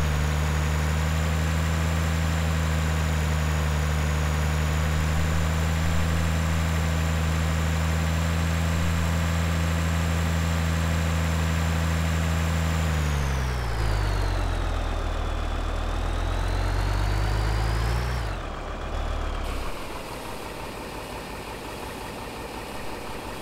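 A truck engine in the Farming Simulator 2013 game idles with a loud, steady low drone, then revs up and drops back down around the middle and settles at a lower, quieter hum.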